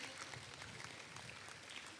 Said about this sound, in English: Give your applause, please.